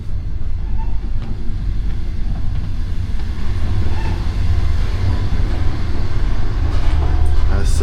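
A slow, affordable green passenger train runs through China, heard from onboard as a steady low rumble and rattle of the carriage, loud and continuous with no talk.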